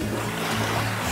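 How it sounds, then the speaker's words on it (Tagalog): Waves at an ocean beach make a steady, broad wash and roar that fills the short stretch without a break, with no talking. "Maganda matulog kasi nadidinig namin yung waves."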